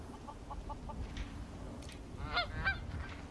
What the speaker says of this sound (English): We got some ducks.